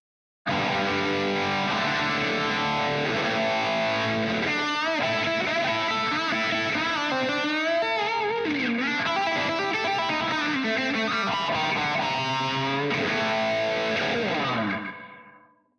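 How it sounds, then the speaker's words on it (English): A heavily distorted electric guitar plays a fast, expressive lick with bends, swirling phaser and trailing echo, loud and continuous before ringing out. "let's take that same lick again, push the gain, add a phaser, add some echo and also some reverb"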